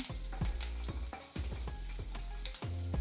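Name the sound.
frying ingredients with rock salt on high flame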